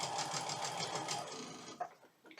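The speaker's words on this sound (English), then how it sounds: "Run it through the machine slowly." A sewing machine stitches cotton quilt pieces in a rapid, even run of needle strokes, close and clear, then slows and stops, leaving a few soft clicks and handling sounds.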